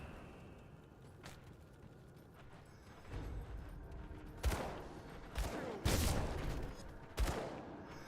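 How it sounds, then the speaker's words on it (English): In Grim Dawn, enemies shoot at each other a short way off, their gunfire coming as a handful of sharp cracks and bursts that grow denser and louder midway before tapering off. "Guys are shooting at each other over there for some reason."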